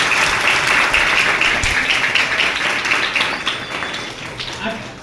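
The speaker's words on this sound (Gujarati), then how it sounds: "એ લોકો માટે એક સરસ મજાની તાળી પડી જાય જોરદાર" An audience claps for a children's play at an anti-addiction rally, with dense, even applause that gradually thins and fades over a few seconds.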